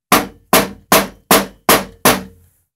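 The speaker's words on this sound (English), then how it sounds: "We will tap it in with a rubber mallet." A rubber mallet taps a right-side crank handle onto a ProForm Whirlwind exercise bike, six evenly spaced sharp knocks about half a second apart, close and loud, each fading quickly, with no talking.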